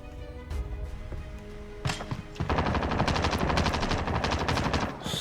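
M60 light machine gun firing in Call of Duty Warzone with a thermal scope, a sustained rapid automatic burst after a few scattered shots, loud and close.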